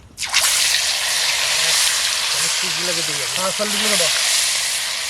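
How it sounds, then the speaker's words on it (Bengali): Fish fries in hot oil in a pan, a loud continuous sizzling hiss that bursts up at the start and holds steady, with a voice talking faintly underneath. "মাছগুলোকে ভেজে নেব"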